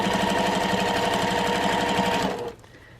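Sewing machine top stitching the bottom seam of a fabric face mask, a loud, fast steady needle rhythm running close up for over two seconds before stopping abruptly.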